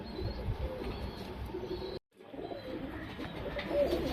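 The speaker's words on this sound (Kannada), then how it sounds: "ನೋಡಿ ಫ್ರೆಂಡ್ಸ್, ಇದು ಬಂದ್ಬಿಟ್ಟು ಜಾಕ್ಚೀನಿ ಗಂಡು." Male Jacobin pigeon cooing softly among other pigeons in a loft, the low murmuring coos fairly close, briefly cut by a moment of silence before resuming.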